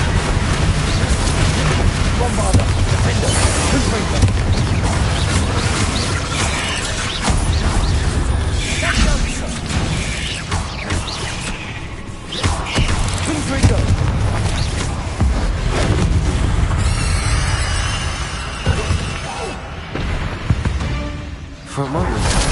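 Spell blasts from Bombarda and Confringo in Hogwarts Legacy land as loud, dense booms and crashes, packed together over a continuous roar of battle noise and music, with a voice calling out spells.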